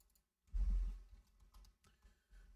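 Keys clack on a computer keyboard in a quiet room: a brief burst of close, soft typing, then a few scattered lighter taps.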